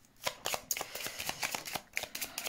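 Lenormand cards are shuffled for a live reading: a steady run of soft, papery riffles and flicks repeats in quick rhythm, close and fairly quiet, with no voice.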